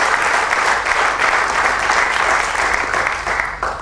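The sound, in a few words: audience applause for Arun Kedar at awards ceremony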